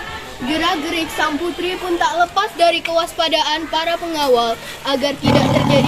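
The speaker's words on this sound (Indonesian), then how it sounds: "Tiba-tiba terdengar suara harimau yang mengaum." Tiger roar as a sound effect in a folk-tale drama, a loud rough burst near the end that follows steady narration and overlaps the final words of the spoken line.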